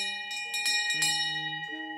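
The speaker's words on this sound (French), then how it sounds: "La semaine commence au son de la cloche à 9h30 précise, comme tous les lundis." A studio bell rings at the start of the work week, giving a few bright metallic strikes with sustained, overlapping ringing tones that carry through the whole moment, and no one speaks.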